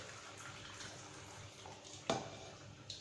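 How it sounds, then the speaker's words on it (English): Water draining from a pot of cooked spaghetti, a low soft running pour with a sharper splash near the end, heard up close with no talk. "drain the water out of the spaghetti"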